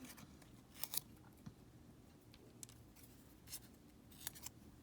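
Small scissors snipping a narrow paper quilling strip into short pieces, a few quiet, sparse crisp snips over a low background hum.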